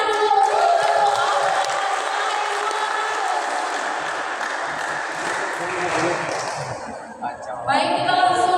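Audience at a youth quiz competition claps steadily in a broad, continuous wash of applause lasting several seconds, with crowd murmur and a brief dip before resuming.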